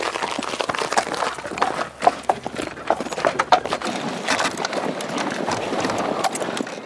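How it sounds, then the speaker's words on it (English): A horse clip-clops steadily on a hard surface as it walks round pulling a Victorian cider mill on a farm, the hoofbeats fairly close, with faint birdsong in the background and no talk. "Now it's a case of getting the horse to do all the hard work."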